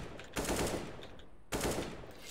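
Two bursts of automatic gunfire in Counter-Strike: Global Offensive, each one a quick rattle of shots that decays into echo. The second burst comes about a second after the first, and both sound somewhat distant and muffled.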